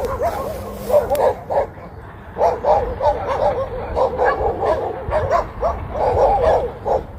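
Guard dogs bark and yip repeatedly in quick uneven bursts, fairly close and loud, with some whimpering mixed in and faint voices underneath.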